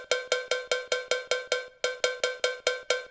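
An electronic drum patch played from an Avatar EMK 25 MIDI keyboard: a steady run of bright, metallic percussive hits, evenly spaced about four per second, with a brief gap midway; no voices.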